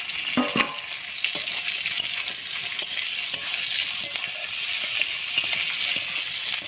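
Fried potato and bitter gourd tossed into a green chilli and panch phoron tempering, producing a steady vigorous sizzle with scattered stirring clicks and no talk.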